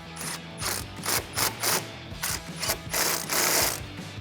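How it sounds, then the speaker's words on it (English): Ratchet with an 8mm socket tightening throttle body clamps on a 2014-2018 Silverado or Sierra 5.3L air intake, with several quick bursts of close, crisp clicking strokes and no talk. "now we're going to tighten down the throttle body clamps. Same process with the 8mm socket."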